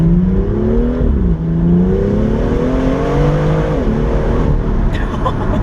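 A car engine revs hard and climbs in pitch as it accelerates, dipping briefly at a gear change before pulling again, loud and close.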